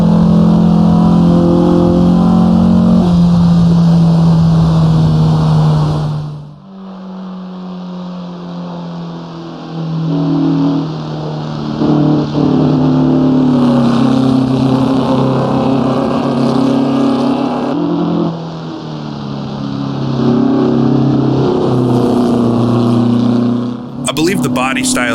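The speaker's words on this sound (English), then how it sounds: "this is actually a Porsche 912" A Porsche 912 engine drones steadily as it is driven in Assetto Corsa, a loud sustained tone whose pitch shifts with gear changes and throttle, with a voice talking over it throughout.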